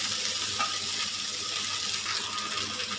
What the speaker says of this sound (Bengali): বিফগুলা কালকে রাত্রে ভেজে রাখছি, আজকে দিয়ে ভালো করে মিশিয়ে নিতাম।